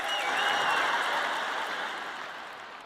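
Church congregation applauding during a sermon, a steady wash of clapping from a crowd that swells briefly and then gradually tapers off.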